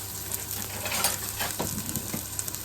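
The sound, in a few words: onions and shallots frying in hot oil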